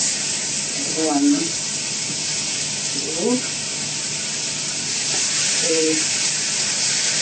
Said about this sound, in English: Now I put the banana in, or plantain, to fry.